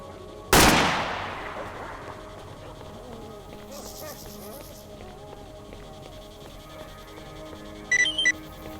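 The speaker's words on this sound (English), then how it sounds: "I can hear gunfire." A single loud gunshot from S.T.A.L.K.E.R. OGSE 0.6.9.3 cracks out near the start and decays over a second, followed by quiet ambient game background and a brief chirping electronic burst near the end.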